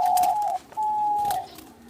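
Diamond doves in a breeding setup give two clear, fairly close coos, the first short and the second longer, with a quiet pause between them.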